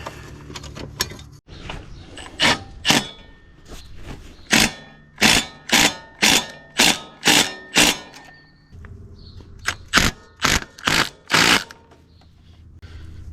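A bolt is worked into a fuel tank bracket on a Ford 960 tractor with a ratchet, producing a long series of short, evenly spaced rasping bursts in quick clusters, close and fairly loud, with no speech.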